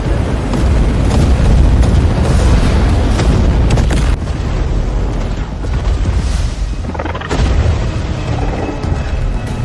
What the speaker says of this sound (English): our coastal batteries are firing already!